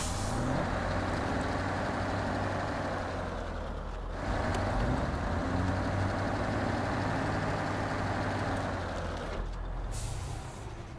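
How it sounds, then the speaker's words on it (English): A large crane truck's engine runs in a video game, a steady loud diesel drone with air-brake hisses breaking in near the four-second mark and again near the end, with no talking. "Love the sound of that engine."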